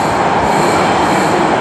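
A Palembang LRT light rail train rolls past close by, a steady loud rumble of wheels on rails with faint squealing, heard alone without voices.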